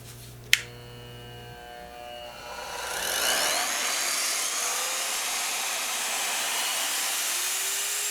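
Canadian Tire Maximum router switched on at low speed: a click, then the motor whines up over a couple of seconds into a steady high-pitched hum, close and alone.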